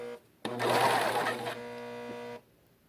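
A Juki serger sewing machine runs in a short burst, a steady mechanical whirr with a brief louder rattle at the start, heard close and alone before it stops.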